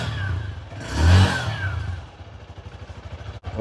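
A new motorbike's engine revs up to a brief loud surge, then settles back into a steady, moderately close running note with no talk over it.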